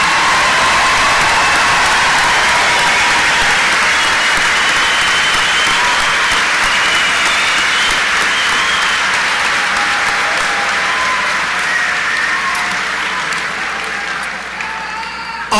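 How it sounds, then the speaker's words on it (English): Graduation audience at a 2022 Harrisburg ceremony breaks into sustained, loud applause with cheering, a dense wash of clapping filling the hall steadily before easing slightly toward the end. "I please have one more round of applause for all members of the class of 2022?"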